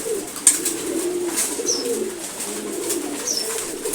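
Pigeons in a home flock coo repeatedly in low, throaty rolls, with a few brief higher chirps scattered through a steady, close background.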